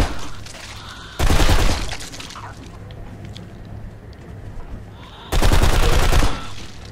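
Gunfire in the shooter Blacksite Area 51, two loud bursts of rapid shots about a second each, separated by quieter ambient game noise.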